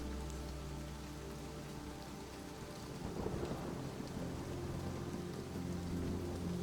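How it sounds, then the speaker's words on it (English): Steady rainfall hisses alone, while a faint low rumble of distant thunder swells gently midway through. "the rain begins to fall slightly faster, and you can also hear the faint rumble of thunder rolling in"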